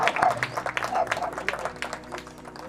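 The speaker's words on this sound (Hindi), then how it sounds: "सब लोग कृपया एक बार लेखक का स्वागत में ताली जरूर बजाएं" An audience claps to welcome an author at a literary discussion event at Africa House. The applause is brief and close and fills the moment, with a voice speaking over it.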